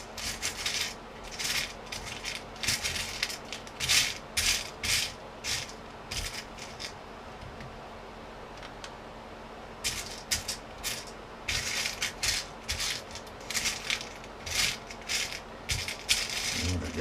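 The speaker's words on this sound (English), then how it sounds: "Alright, so let's screw this down." Repeated ratcheting and rubbing of screws being driven down to fix an FPV pan-tilt camera mount on a Unimog, coming in close bursts with a short pause midway, no talking.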